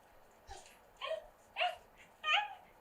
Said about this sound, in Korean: 요거는 선생님이 집에 있는 강아지를 찍은 영상이에요